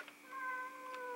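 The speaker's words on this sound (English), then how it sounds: "Sorry about the cat noises." A cat lets out a single drawn-out meow, faint and somewhat distant, rising and holding in a quiet room.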